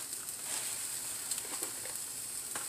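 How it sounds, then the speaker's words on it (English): A burger patty frying in a pan gives off a continuous, close sizzling hiss with small scattered pops and crackles, and no voices over it. "So I have my burger cooking"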